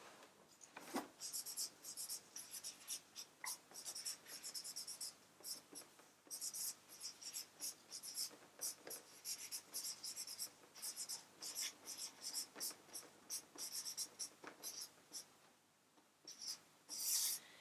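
A pen writing on paper, quiet close scratching strokes in irregular bursts with short pauses between them, alone without talk.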